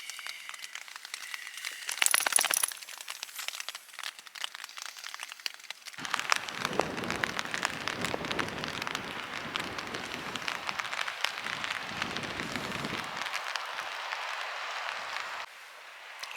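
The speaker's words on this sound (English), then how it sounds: "a little lull in the rain, although it's still quite drizzly" Light drizzle patters on a tent at a coastal wild camp, a soft, close, continuous crackle that thins at times and swells in fuller bursts partway through.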